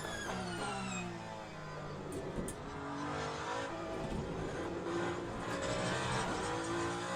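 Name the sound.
race car driving a lap in video game Le Mans Ultimate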